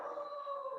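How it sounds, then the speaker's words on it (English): A pet dog howls in a single sustained, wavering tone indoors, close and steady, with no talk over it. "Sorry, that's my dog."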